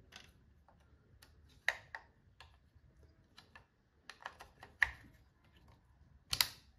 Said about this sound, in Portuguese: Ao fazer esse som, a memória foi instalada perfeitamente, sem nenhum problema.